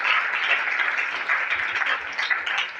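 A congregation at a church service applauds and cheers in praise of God, a steady, dense wash of clapping and acclaim that holds at an even level throughout.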